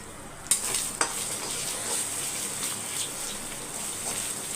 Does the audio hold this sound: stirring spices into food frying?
yes